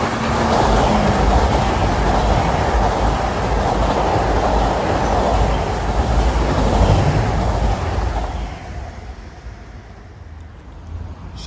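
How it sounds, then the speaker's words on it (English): A Long Island Rail Road train from Ronkonkoma to Penn Station rushes toward Queens Village station at speed, a loud broadband rumble and rush that holds steady for about eight seconds, then drops away to a quieter wash. "Got 1917 from Ronkonkoma to Penn Station approaching fast."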